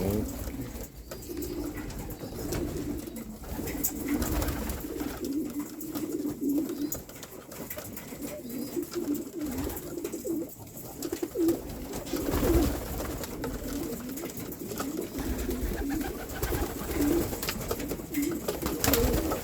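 Homing pigeons coo steadily in a breeding loft at feeding time, a continuous close chorus of low burbling calls with soft rustling throughout and no talk.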